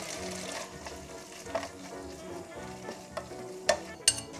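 Soaked seaweed stir-fries in oil in a pot, with a soft, continuous sizzle broken by several sharp clacks and scrapes of the stirring utensil.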